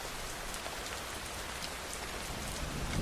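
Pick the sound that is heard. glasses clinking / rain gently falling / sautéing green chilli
rain gently falling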